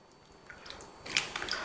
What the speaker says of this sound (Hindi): अभी ये जो आलू है उसे हम पानी में डाल देंगे। बहुत ही हल्के हाथों इसे इस प्रकार हम वॉश कर लेंगे।